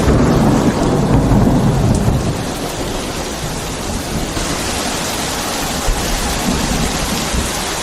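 Heavy rain pours steadily while rolling thunder rumbles through it, loud and enveloping, the low thunder swelling at the start and again later under a constant hiss of rainfall.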